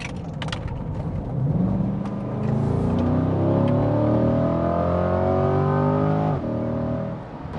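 A Corvette engine pulls hard through a turn, its note climbing steadily in pitch while the car accelerates, loud and close from inside the cabin, then briefly dropping near the end as a shift comes.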